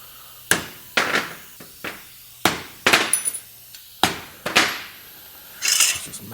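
Sharp metallic taps from a hammer and punch dotting sheet metal on a rat rod visor before drilling, a dozen or so bright clanging strikes in an uneven rhythm, close and crisp with short ringing tails.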